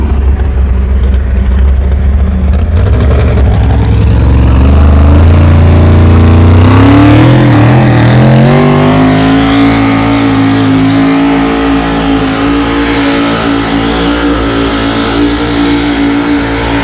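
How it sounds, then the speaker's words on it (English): A truck-pull competition truck with a high-compression 600 cubic inch Lopes racing engine roars very loudly and close, its pitch climbing as it revs up, then holding at a sustained high-power howl. "That's a Lopes racing engine, folks, 600 cubic inches."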